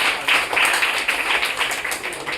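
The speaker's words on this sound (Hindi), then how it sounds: "इसके लिए भी जोरदार तालियां।" A classroom of students claps loudly for a classmate being recognised for exam marks, a dense continuous burst of applause with no talking on top.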